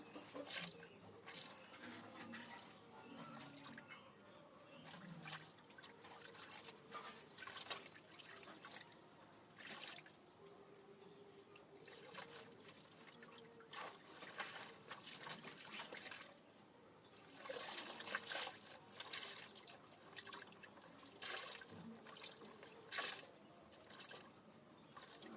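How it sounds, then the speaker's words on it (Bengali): Tap water runs into a sink while someone washes their face with face wash, a steady splashing flow with shifting splatters and drips, close and moderately loud, with no talking. "এখন আমি ফেস ওয়াশ দিয়ে একটু মুখটা ধোবো"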